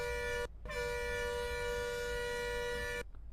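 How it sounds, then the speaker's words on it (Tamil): A loud, bright air horn on an Ashok Leyland Indian private bus in Euro Truck Simulator 2 blasts once briefly, cuts out, then sounds again in one long sustained tone before stopping abruptly. "இதுதாங்க ஹாரன்."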